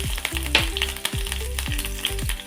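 Green chillies frying in an oil-filled pan for egg bhurji, a steady close sizzle with repeated scraping stirs of a spoon against the pan, no voices.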